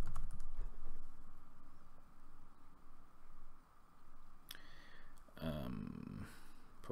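Fingers tap steadily on a computer keyboard, a quiet close clatter of keystrokes, with a few louder bursts of handling noise and clicks toward the end.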